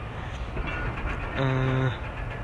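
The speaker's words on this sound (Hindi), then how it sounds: "अब हमारी ट्रेन हरिया रेलवे स्टेशन से निकलना स्टार्ट हुई है।" An overnight express train, the Hazara Express, pulls out of Hariya railway station in Pakistan with a steady rumble and rattle of carriages, and a brief sustained horn sounds partway through.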